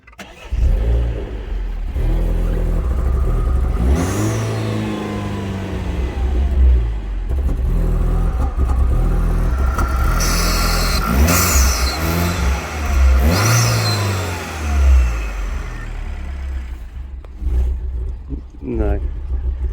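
Car engine fitted with an aftermarket induction kit intended for a different car, revving repeatedly with rising and falling blips and a throaty intake roar, close up, with people talking over it.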